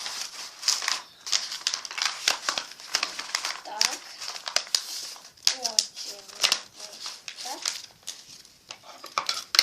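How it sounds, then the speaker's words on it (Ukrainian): Paper crinkles and crumples continuously in close, busy rustling bursts as it is wrapped around cut table tennis ball pieces, with occasional light clinks and a faint voice in the background. "І оце все ми загортаємо в папір або ж в газету"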